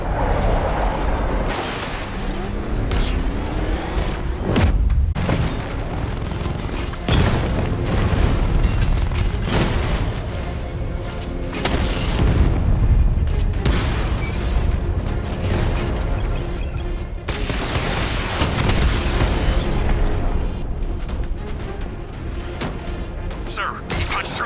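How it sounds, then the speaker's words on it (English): Batmobile 60mm cannon in Batman: Arkham Knight blasting heavily armored units, heavy booming impacts and crashes repeating through a dense, loud combat mix with radio voices talking over it. "Your 60mm cannon will penetrate these heavily armored units, but it'll take a few direct hits to destroy them."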